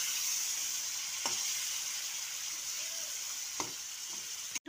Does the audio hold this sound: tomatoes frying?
yes